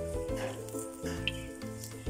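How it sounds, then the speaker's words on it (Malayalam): Coconut oil heating in a hot uruli pan for a duck curry, a soft sizzle and crackle with light stirring scrapes, close up, under a steady tonal background hum, no talking. "ഇനി ഇതിലേക്ക് കുറച്ച് വെളിച്ചെണ്ണ വെച്ച് കൊടുക്കാം"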